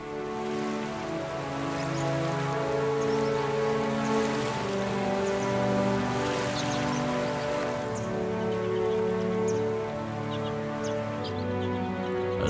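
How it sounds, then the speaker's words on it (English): Heavy rain from a mountain thunderstorm pours steadily and evenly, a dense continuous hiss with drops splattering on surfaces, under a low droning hum; no voices. "a mountain thunderstorm is extremely dangerous"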